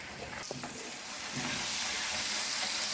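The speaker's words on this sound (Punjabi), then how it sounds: "ਇਹਨੂੰ ਆਪਾਂ ਨੇ ਭੁੰਨਦੇ ਰਹਿਣਾ ਗੈਸ ਤੇਜ਼ ਕਰਕੇ ਭੁੰਨੀ ਜਾਵਾਂਗੇ" Ridge gourd roasting in a pan over a high gas flame, a steady loud sizzle and hiss with a few faint stirring scrapes, no talking.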